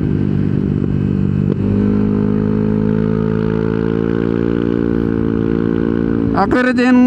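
Yamaha NMAX 155 scooter fitted with a Techmax CVT upgrade, engine holding a loud steady drone under throttle, then dropping off near the end with a brief burst of higher tones.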